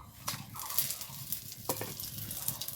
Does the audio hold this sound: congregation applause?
no